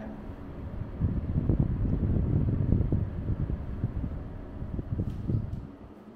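An AUFIT Q Series DC inverter air conditioner runs with a low, steady airy whoosh, close up, swelling slightly then easing off, no voices.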